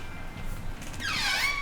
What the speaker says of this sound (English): Let me close my back door.